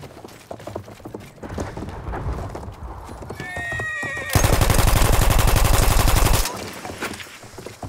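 Rapid, rhythmic hoofbeats of a galloping horse in Battlefield 1 surge in loudly midway, with a brief whinny and faint gunfire crackling in the background.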